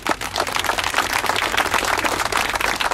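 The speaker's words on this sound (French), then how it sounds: "Je voudrais qu'on applaudisse les néerlandophones qui sont venus jusqu'ici." A crowd applauds Dutch-speaking guests at a Belgian gathering, a dense and steady burst of clapping that stays loud and close for its whole length, with no speech.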